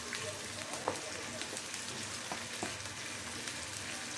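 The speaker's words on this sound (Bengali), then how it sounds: "আর দিয়ে দিচ্ছি আমি একটু রসুন বাটা" Garlic paste sizzles quietly in hot oil in a pan while a rohu fish curry is cooked, giving a soft, steady crackle with a few sharper pops and a faint voice underneath.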